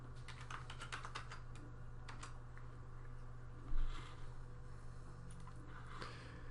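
Steady clicking of a computer keyboard as a username and password are typed for a login, bursts of keystrokes with brief pauses, close and fairly quiet over a constant low hum.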